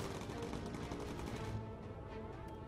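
An aircraft gunner in the Bomber Crew video game fires a machine gun: a brief, steady rattle of rapid shots under an engine drone, fairly faint.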